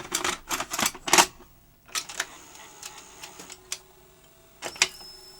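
A 1979 Philips N1702 VCR-LP video recorder loading and running a tape, a series of close mechanical clicks, clunks and whirring clatters in irregular bursts with quiet gaps, no talking.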